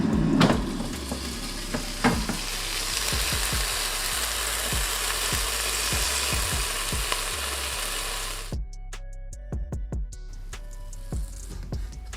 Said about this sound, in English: this air fryer doesn't require any preheating, so this goes straight in